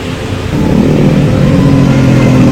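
A noisy Yamaha Mio carbureted scooter engine revs up close and loud, jumping from idle to a harsh, rough steady drone after the first half second.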